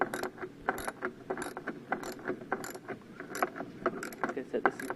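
A ratchet works a carburetor bolt loose on a Troy-Bilt Squall 2100 snowblower, a rapid series of quiet, close metallic clicks in short irregular bursts.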